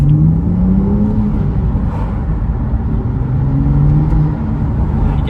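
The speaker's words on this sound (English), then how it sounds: "I'll give you a little bit of a rev" A 2016 BMW M2 3.0 manual (F87) sports car engine hums and rises in pitch as it is revved, a loud, close rumble with rising and falling tones.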